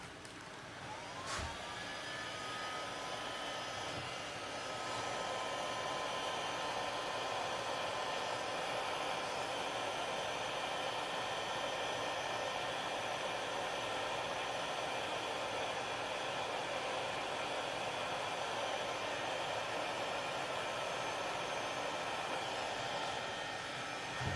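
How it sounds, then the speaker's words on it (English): A heat gun blows steadily against a car panel, a constant close airy roar with a faint whine, preceded by a sharp click as it switches on, with no voices. "heat gun here in place until the temperature reaches 220 degrees"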